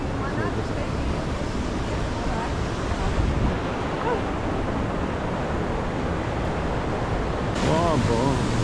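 The Edessaios river's waterfalls at Edessa, beside a park above the falls, give a steady, loud, broadband roar of rushing water, continuous throughout with faint wind noise mixed in.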